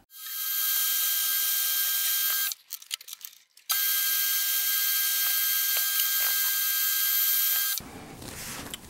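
A steady, loud high-pitched whine of a lathe parting off steel runs for several seconds, breaks briefly with clinks, then resumes before stopping.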